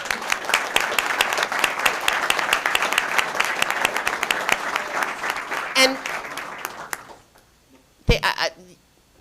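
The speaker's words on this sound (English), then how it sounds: "But one last round of applause." A school district ceremony audience claps in a dense, sustained burst that thins out and fades, followed by near quiet broken by a couple of sharp knocks and a short spoken word.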